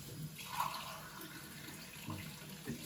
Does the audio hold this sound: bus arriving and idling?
no